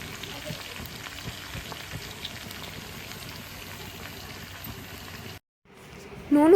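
Chicken pieces frying in a pan with salt and turmeric, a continuous close sizzle and crackle that cuts out briefly before a louder clatter at the end, no one speaking.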